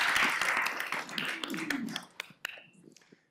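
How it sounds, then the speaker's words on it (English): Applause breaks out in a room during a city council meeting. The clapping is loud and fast at first, then thins to a few scattered claps and fades out within a few seconds. "Everyone, please give Kate a round of applause."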